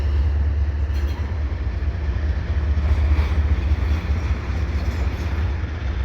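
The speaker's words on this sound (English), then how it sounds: "Two ES44s with another double stack train." Two ES44 locomotives haul a CPKC double-stack intermodal train past Dorval at evening, a steady low rumble and rolling wheel noise that stays loud and continuous throughout, with no voices.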